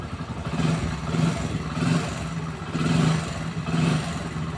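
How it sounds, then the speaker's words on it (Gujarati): A repaired motorcycle engine, running again after valve and piston work, idles and revs in repeated swells with a steady clattering mechanical tone, recorded close by with no talking. "બાઇક કમ્પ્લીટ ચાલુ થઈ ગઈ છે"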